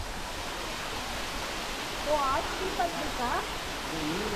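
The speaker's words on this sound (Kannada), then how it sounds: "ಈಗ ನಾವು ಹಿಡ್ಲು ಮನೆ ಫಾಲ್ಸ್ ಹತ್ರಕ್ಕೆ ಬಂದಿದ್ದೀವಿ" Steady rushing water noise of Hidlumane Falls near Kodachadri, running low, like a distant waterfall, with faint voices or chirping sounds briefly rising over it.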